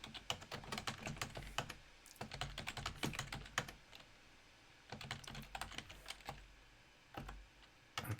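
Quick bursts of typing on a computer keyboard to enter a username, soft close clicks in uneven runs with short pauses.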